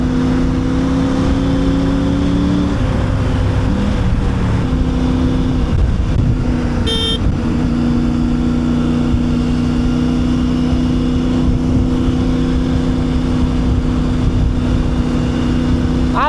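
Triumph Tiger 900 Rally Pro motorcycle from 2022 riding along a road, its steady engine drone loud and continuous throughout with slight changes in pitch, plus a brief rattling burst partway through.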